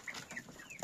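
Hens clucking in a farmyard at feeding time, soft, short clucks and chirps repeating in a quick, faint, fairly distant jumble.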